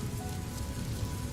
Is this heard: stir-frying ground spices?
no